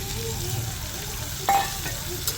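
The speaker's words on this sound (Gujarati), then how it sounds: "હવે તેમાં આપણે આ બધું કટ કરેલું વેજીટેબલ્સ ગ્રેવી માટે એડ કરીશું" Chopped vegetables hitting hot oil with cumin seeds for a curry gravy, a close steady sizzle with a brief burst of louder spatter and a light clink of a utensil.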